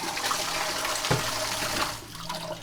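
Water rushes steadily from an opened valve in a 4000-litre saltwater aquarium system, a continuous broadband flow that is loud and close, with a brief knock partway through and a slight drop near the end.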